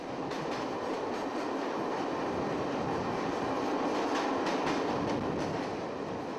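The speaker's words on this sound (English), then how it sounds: "As the train chugs along towards the region of Sambalpur, nature reveals her beauteous self." A passenger train runs steadily along railway tracks toward Sambalpur, with a continuous loud rumble and repeated clickety-clack of the wheels over rail joints, and no voices.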